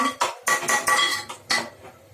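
A spoon or ladle clanks repeatedly against a metal pan while stirring vegetable soup with butter and pepper, a series of sharp close knocks at uneven intervals, no talk.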